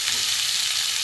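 Pointed gourd and potato pieces fry in hot oil in a pan, giving a steady, close sizzle that holds evenly through the short stretch with no voices.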